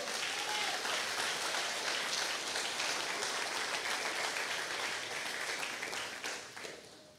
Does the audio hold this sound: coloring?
no